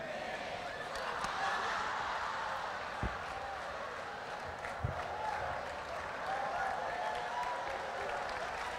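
A church congregation applauds at a distance, a soft, sustained patter of clapping from a crowd with a couple of louder thumps, faint and steady throughout.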